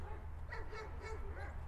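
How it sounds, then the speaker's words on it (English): A Weimaraner and a German Shepherd next door quarrel, a run of yips, whimpers and short barks at moderate distance over a steady low hum. "Sounds like the dogs next door are having a little quarrel this"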